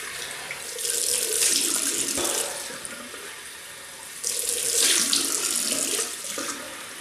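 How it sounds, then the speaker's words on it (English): Running tap water splashes into a sink as a Muhle R41 safety razor is rinsed, in two loud bursts of flow with a quieter gap between, no talking. "let me just rinse."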